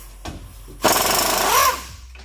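An impact wrench with a wobble socket hammers a hub bolt on a 2017 Ford Explorer during wheel bearing replacement: one loud, close burst of rapid rattling impacts lasting about a second, with small clicks before and after.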